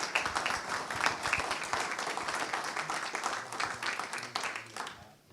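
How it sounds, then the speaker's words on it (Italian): Applause from the audience at a winter assembly of the engineers' order in Padova, a dense and fairly quiet wash of clapping that holds steady and then thins out toward the end. "vorrei che voi gli dedicaste un grandissimo applauso per quello che ha fatto fino a stasera"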